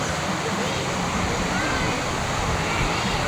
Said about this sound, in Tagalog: tignan yung tubig, sarap ng tubig, lumaragasa.